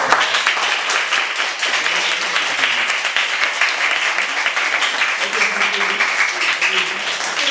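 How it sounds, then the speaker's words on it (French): A group of schoolchildren claps at a school visit, dense steady applause filling the room from start to finish, loud and close, with voices mixed in beneath the clapping. "Applaudissez."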